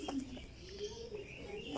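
Racing pigeons in a loft coo softly and continuously at low volume, with a few faint chirps and a light background murmur.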